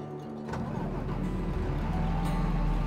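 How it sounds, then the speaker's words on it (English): A tractor engine in Farming Simulator 22 turns over and settles into a steady, loud, low rumbling idle that continues without a break. "let's turn on the engine"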